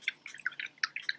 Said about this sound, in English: I'm just going to rinse my brush off.